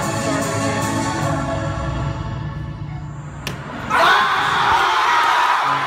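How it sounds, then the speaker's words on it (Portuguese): Crowd bursts into loud cheering and applause for a successful water bottle flip, the roar rising suddenly near the end after a quieter stretch of murmuring. "E todos aplaudiram."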